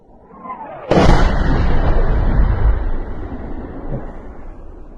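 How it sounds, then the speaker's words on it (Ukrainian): A loud artillery strike near Bakhmut during the war bursts in with a sharp, heavy boom, then a long rumbling roar that slowly fades. The blast is close and powerful, and no voices are heard. "Окупанти агресивно задають по 180-200 артилерійських ударів за добу."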